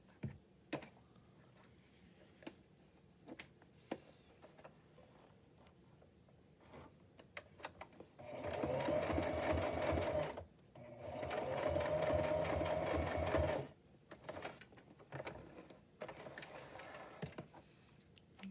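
A sewing machine stitches across a seam in patchwork fabric, running in two rapid bursts of a few seconds each. Quiet handling clicks and taps fill the pauses before, between and after the bursts.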